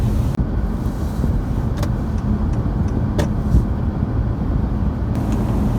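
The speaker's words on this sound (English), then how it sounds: "driving on the highway in the snow for the first time" Loud, constant interior rumble of a car driving on a snowy highway in Canada during a snowstorm, with steady road and engine noise and a few faint clicks and thumps, with no talking.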